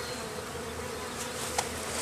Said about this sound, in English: And the bees all through my hair.